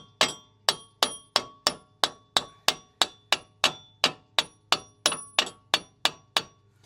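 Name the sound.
ball peen hammer tapping car axle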